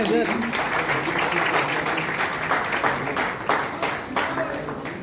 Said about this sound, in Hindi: एक बार जोरदार तालियां सादिक भाई